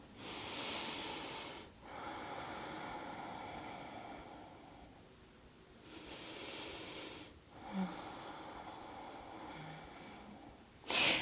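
Slow, deep yoga breathing heard up close during a lunge stretch: long audible inhales and exhales in a steady rhythm, with brief pauses between breaths and no talking.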